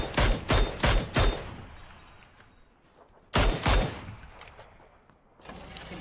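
Gunfire in a GTA-style video game comes as a rapid run of about four loud shots, then a quieter pause, then another close pair of blasts, followed by a fainter rumble.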